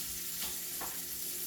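Sausages browning in a pan give off a steady, close sizzle and hiss that runs the whole time, with a couple of soft stirring scrapes along the way. No one speaks.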